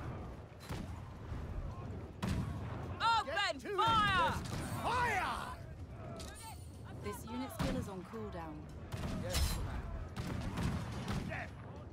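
Falconet cannons fire in the video game Conqueror's Blade, with loud booming volleys mixed with battle clamor and a commander's voice shouting orders.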